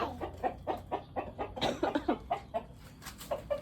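Chickens cluck in a rhythmic run of short, close calls on a Khon Kaen outing, with a quiet low hum underneath and no one speaking over them.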